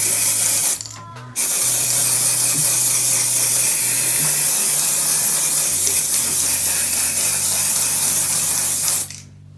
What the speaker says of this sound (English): As you can see, I'm just like spray painting it green.